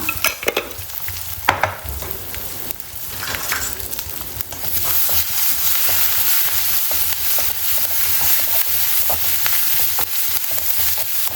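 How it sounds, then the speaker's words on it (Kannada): Ground masala with turmeric and curry leaves fries in a pan. Scattered spoon clinks and scrapes open the stretch, then a loud, continuous sizzle builds and holds steady. "ಚೆನ್ನಾಗಿ ಫ್ರೈ ಮಾಡ್ಕೊಳ್ಳೋಣ"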